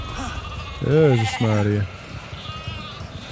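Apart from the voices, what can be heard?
sheep bleating in the video game The Alters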